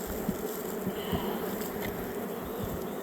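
Agitated honey bees buzz at an opened hive in a late-season swarm colony, a dense, continuous swarm hum close by with individual bees flitting past the mic.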